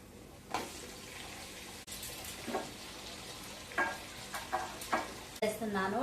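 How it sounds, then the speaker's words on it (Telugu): Tomatoes cooking in a pan for biryani, with beetroot among the ingredients: a steady low sizzle runs throughout, broken by several louder scraping stirs of a spoon against the pan. "టమాటాలు అయితే మగ్గుతున్నాయి"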